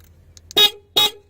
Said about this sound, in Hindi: ये हॉर्न इसी से बजती है।